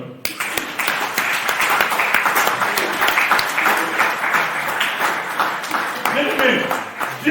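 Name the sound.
church congregation applauding and acclaiming the Lord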